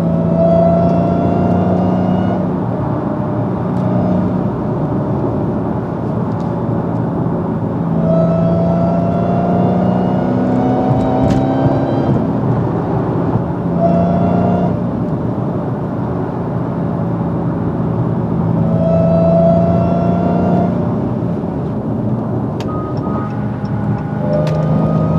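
A manual Dodge Hellcat with a Legmaker intake pulls hard from inside the cabin, its supercharger whine rising and falling in repeated climbing tones over a steady loud engine roar through several gear changes.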